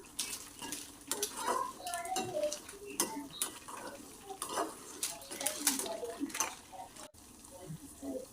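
Ground spices with turmeric, cumin and coriander powder are fried and stirred for a kasuri methi paneer dish. Steady sizzling sits under frequent scraping and clinking of a utensil against the pan, up close.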